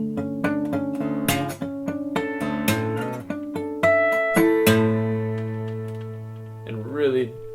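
Acoustic guitar plays the closing phrase of a piece as quick plucked notes and strums, ending on a last chord left ringing and slowly fading, with a brief voice at the very end.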